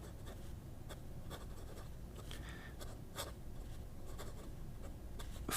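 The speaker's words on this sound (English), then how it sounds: "It's a flex nib that you can write every day with" A Scribo Flow fountain pen with a 14-karat flex nib writes on paper: soft, close scratching strokes come in short intermittent bursts against a quiet room background.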